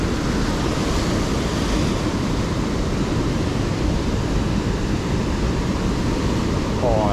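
Ocean surf breaking at Burleigh Heads on the Gold Coast, a steady close roar of waves and whitewater with wind buffeting the microphone, continuous and fairly loud throughout.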